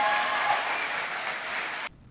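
A room full of listeners claps their hands together in a sustained, dense burst of applause that cuts off abruptly near the end.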